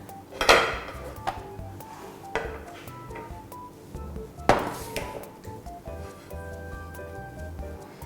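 Flower-shaped pretzels being arranged on a plate, with sharp ceramic clinks and taps of dishes spaced a few seconds apart, a couple of them louder, over a quiet room.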